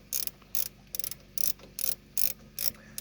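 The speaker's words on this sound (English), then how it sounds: "I know this is not how you're supposed to use a socket wrench, but it's quicker than actually turning the thing" A socket wrench with an extension ratchets out a spark plug from a hydrolocked engine, giving about eight quick, crisp clicking bursts in a steady rhythm, close and clear with no talk.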